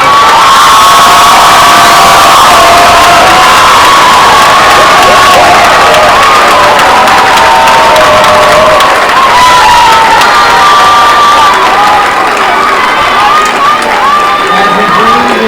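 A graduation ceremony crowd in an auditorium cheers, whoops and applauds its graduates, a loud, dense and continuous roar of voices and clapping that holds steady throughout.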